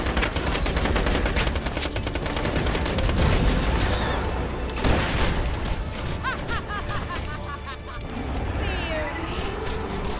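Rapid gunfire from weapons in the fantasy shooter Tiny Tina's Wonderlands, dense continuous bursts with booms, mixed with game effects and a voice talking over it throughout.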